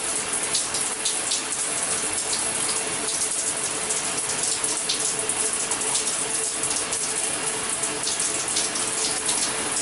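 Water sprays steadily from a Brondell Swash Ecoseat non-electric bidet toilet seat, a continuous close hiss of running water with no pauses.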